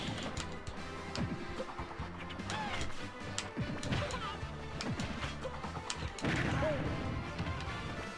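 Bomb attack impacts from Banjo-Kazooie in the fighting game Super Smash Bros. Ultimate: repeated crashing thuds and whacks amid busy game effects and music, with some voices over the action.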